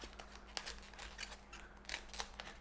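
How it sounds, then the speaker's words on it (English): A knife carves the stems off a whole cauliflower, making quiet, close crunchy cuts and scrapes at an irregular pace over a low steady hum, with no voices. "Just like to kind of carve with my knife pointed down, which cuts off most of the stems"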